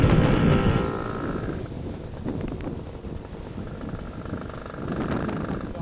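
A GT300LC engine drones steadily at low revs while labouring uphill, a heavy rumbling strain that eases slightly midway and swells again, with wind buffeting in the background.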